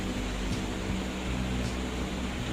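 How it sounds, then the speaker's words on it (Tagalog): A hair blower runs steadily at close range, a constant breathy whoosh with a faint motor hum, and two brief clicks partway through. "So let's try the blower."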